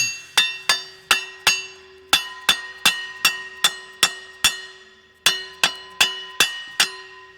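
A flex plate is tapped onto the crankshaft of a 1000HP G6ET Barra built engine, giving a steady series of crisp, ringing metallic taps in loose groups, close and clear, with about seventeen strikes.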